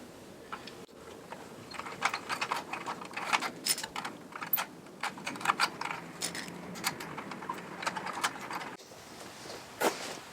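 A ratchet works a 10 mm bolt on a Kawasaki ZH2 exhaust, giving rapid close-up clicking and metallic rattling in uneven bursts over a quiet background.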